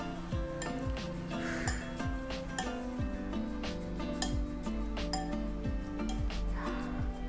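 Spoon clinking and scraping against a bowl of Soto Suroboyo as sambal is stirred in, with steady close-up metallic taps and rubs repeating throughout, no talk.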